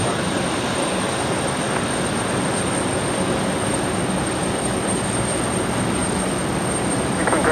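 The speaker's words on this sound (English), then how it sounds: "Emirates now on the move." An Emirates airliner taxis at Brisbane Airport, giving off a loud, constant broadband engine rumble and hiss that stays steady and unbroken throughout, with no talk.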